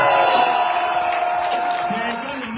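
A crowd at a Gabonese civil society political gathering roars steadily, with cheering, whoops and clapping blended into a continuous wash of noise that tapers slightly toward the end.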